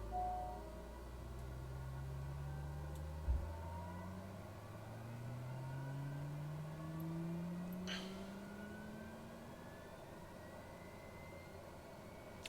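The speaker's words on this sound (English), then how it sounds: "we're going to try again with another engine start" TBM 930 turboprop engine spooling up during start in Flight Simulator 2020, a steady whir with rising tones climbing over several seconds, a brief click near the start, continuous and moderately loud.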